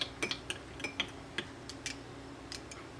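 A utensil stirring colour into melted wax in a container, giving light irregular clinks and taps against the side, close and fairly quiet, with no talk.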